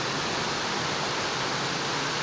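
Rain pours down in a continuous, even hiss with no breaks or other sounds, loud and close throughout.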